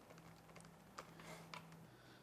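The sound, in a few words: typing on membrane laptop keyboard keys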